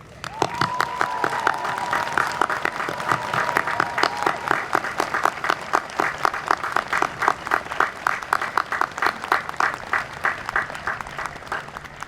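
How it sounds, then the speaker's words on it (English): Loud, sustained applause from a commencement audience for the Oxford College graduating class, many hands clapping in a dense wash with a few cheers and a sustained whistle-like tone early on, continuing strongly for about twelve seconds. "Join me in applauding the Oxford College class of"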